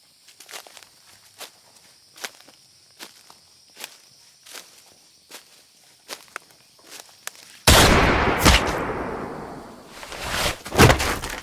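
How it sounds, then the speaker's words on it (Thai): A single loud gunshot rings out from the darkness in a Thai ghost story, striking abruptly after a stretch of soft, scattered footsteps and then trailing off into a rough burst of noise. "เสียงปืนนัดหนึ่งก็ดังขึ้นจากในความมืด"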